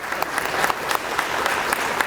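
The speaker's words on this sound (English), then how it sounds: "Let's give her a round of applause." Audience applause at a community college signing day ceremony, a dense steady clapping from a crowd filling the room for a couple of seconds.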